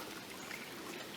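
Water pours into a plaster of Paris mix outdoors for casting animal prints, a soft continuous trickle heard faintly and close.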